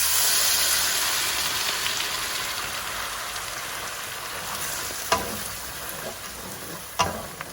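Puree sizzles and fries in a hot pan with butter, bay leaf, cinnamon stick and cardamom pods, a steady crackling hiss that slowly fades, broken by a couple of sharp clinks near the end.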